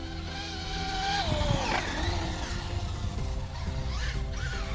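Traxxas UDR RC truck held at full throttle, its high-pitched electric motor whine sweeping up and down over steady drivetrain and tire noise, close and loud throughout with no talk.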